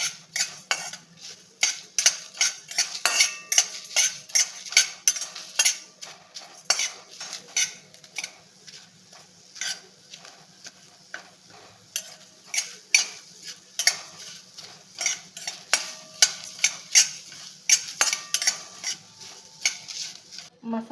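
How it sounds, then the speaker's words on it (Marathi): Whole spices being lightly dry-roasted in a pan with bay leaf, a steady run of metal spoon scrapes and clinks against the pan, close and busy, with a faint sizzle beneath. "मसाले अगदी हलकसे भाजून घ्यायचे आहेत आपल्याला"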